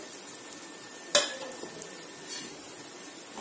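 Brinjals (eggplants) for Maharashtrian stuffed masala vangi are dropped into a hot pan, giving a sharp sizzling burst followed by a low, steady frying hiss with light stirring clatter.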